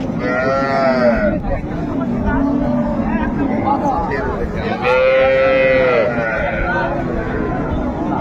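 A cow with her calf lows loudly at a busy cattle market in Raniganj, giving two drawn-out moos amid crowd noise and people talking nearby.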